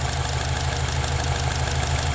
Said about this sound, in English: It's hard to do with the engine shaking.